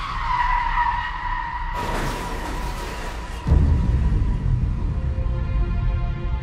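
A car skids during a crash in the horror video game Within, a long loud tire screech over engine rumble, shifting to a heavier low roar midway, with no talking.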